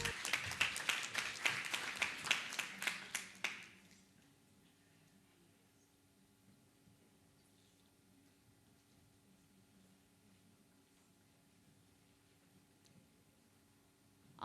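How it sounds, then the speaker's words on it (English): Applause from a cybersecurity conference and exhibition audience for exhibitors, a loud burst of clapping for about three and a half seconds that stops abruptly, leaving a quiet hall with a low hum. "Could we give them another round of applause"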